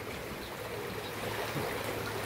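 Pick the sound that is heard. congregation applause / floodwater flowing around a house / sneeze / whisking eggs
floodwater flowing around a house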